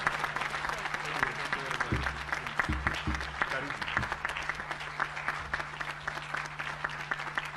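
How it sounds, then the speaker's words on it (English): Hearty applause from an HR conference audience at a lodge in Naivasha, sustained dense clapping throughout with a low steady hum underneath and a few thumps. "Watu wa HR, mna clap mpaka anze kuongea."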